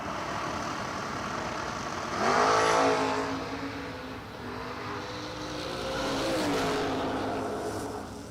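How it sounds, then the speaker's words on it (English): Drag race engines, a Ford Mustang chasing a small Chevy II station wagon, swell from a distant drone into a loud rising roar, fade briefly, then climb again as a second pass builds, heard from the stands without talk. "Ford Mustang trying to catch a little Chevy 2 station wagon."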